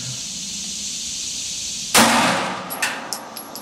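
A single sharp, loud 9mm Sellier & Bellot full metal jacket shot fired through a chronograph outdoors, cutting through steady background noise and followed by a fading echo and a few faint later pops.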